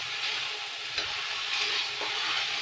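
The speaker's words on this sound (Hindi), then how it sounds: "और हम इसमें बॉयल स्पैगेटी डाल देंगे।" Boiled spaghetti goes into a hot pan for chicken tikka spaghetti and is stirred, giving a steady close sizzle broken by a few soft scraping clatters.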